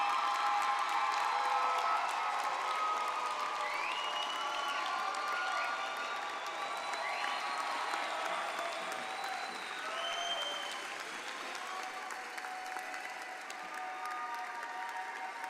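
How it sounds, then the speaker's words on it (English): Sustained applause fills a hall as an audience claps for graduates of a university fine arts and communication college at a spring commencement. The clapping is dense and even throughout, with faint cheers mixed in. "give them one more round of applause"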